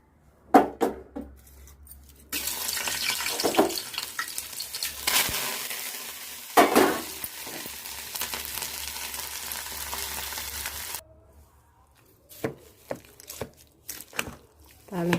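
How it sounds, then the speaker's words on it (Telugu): Tempering spices for coconut tomato chutney, including urad dal, cumin, mustard seeds, dried red chillies, curry leaves and garlic, crackle and fry in hot oil with a bright sizzle for several seconds, bracketed by clinks and handling noises. "తాళింపు వేసుకుంటానండి."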